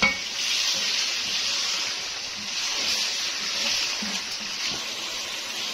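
Chicken pieces for nihari cook in a pan with water added, giving a steady, close sizzling hiss with faint stirring scrapes throughout and no talking.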